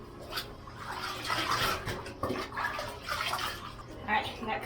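Water splashes and pours while a small child is rinsed in a bathtub, uneven bursts of splashing and trickling close by throughout, with a few soft sounds between pours.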